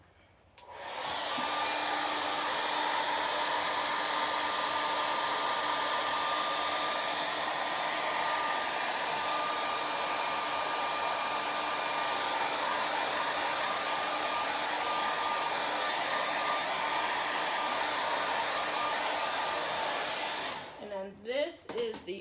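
A hair dryer blows steadily for about twenty seconds while drying chalk paint on a craft project, a loud close whoosh with a faint whine, cutting off with a clatter near the end.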